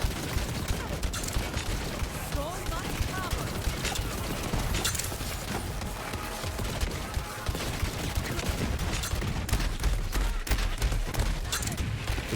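Rapid weapon fire in Borderlands 3, dense bursts of shots and ricochets running continuously with crackling impacts and a steady low rumble, no pauses throughout.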